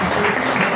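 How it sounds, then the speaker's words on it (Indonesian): Applause from a church youth audience, a dense, steady wash of clapping filling the short moment with no voices. "Tepuk tangan yang meriah"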